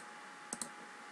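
Two quick, crisp computer mouse clicks close together, faint and near, with quiet room tone around them while working in SolidWorks.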